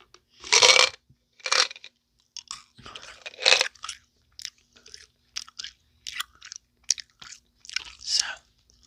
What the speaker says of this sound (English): I also am going to be chewing some gum while I talk about them